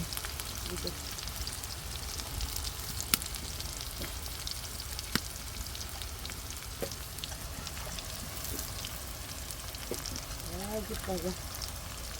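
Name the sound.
onion frying in a wok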